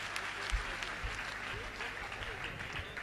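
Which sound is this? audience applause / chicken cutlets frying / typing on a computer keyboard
audience applause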